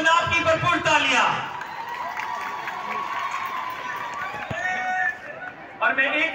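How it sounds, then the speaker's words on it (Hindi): Crowd applause and cheering at a sports event in Punjab Stadium, Lahore, a broad wash of clapping and voices that swells, dips midway and rises again, with a voice over a loudspeaker mixed in. "लेडीज एंड जेंटलमैन, आपकी भरपूर तालियां।"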